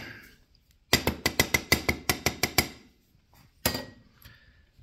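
Thick non-tempered glass from a 1967 Cadillac windshield being removed gives a rapid run of about ten sharp hard clinks and taps, a pause, then one more loud knock, close by with no speech.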